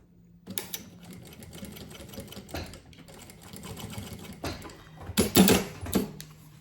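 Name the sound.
sewing machine stitching a finishing seam on a mini suitcase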